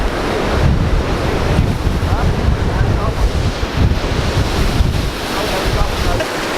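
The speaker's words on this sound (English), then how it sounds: "We made it to the waterfall" Yosemite waterfall roaring as a steady, dense broadband rush with gusty wind buffeting the microphone, loud and continuous throughout with no voices over it.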